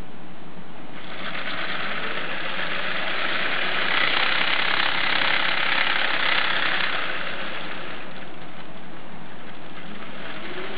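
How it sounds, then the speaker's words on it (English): Two Lego 5000 RPM motors with gearing, running on 18 volt direct current, spin a Lego flywheel CVT with a steady high-pitched whirring drone that swells in the middle and holds for around ten seconds, with no voices. "here I'm powering it with two Lego 5000 RPM motors with a bit of gearing"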